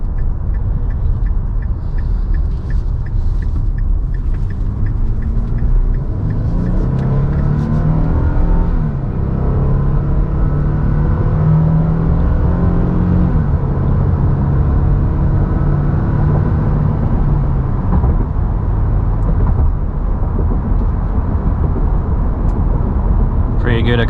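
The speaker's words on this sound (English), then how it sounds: "Pretty good acceleration." A 2024 Nissan Frontier Pro-4X pickup with a 9-speed automatic accelerates, its engine note rising steadily through smooth shifts, heard from inside the cab under a person talking.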